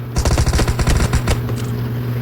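Rapid bursts of video game gunfire, rattling automatic fire in quick repeated volleys over a steady electronic hum, loud and close, no talking.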